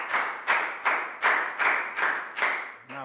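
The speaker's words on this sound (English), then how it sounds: "Big round of applause for Nadia, guys." A Year 4 English class claps for a student in a steady, even rhythm of about eight close, bright claps, with a voice starting up right at the end.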